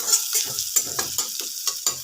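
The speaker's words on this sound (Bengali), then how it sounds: "অল্প একটু লাল লাল করে আদাটাকে ভেজে নেব।" Crushed ginger frying in a little oil for a jackfruit curry, with a close, steady sizzle broken by regular scraping stirs of a spatula and no voices.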